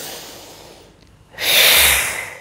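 A deep breath in a guided qigong exercise: a soft, steady airflow fades into a brief pause, then a louder, airy exhale swells and slowly tails off, alone and close.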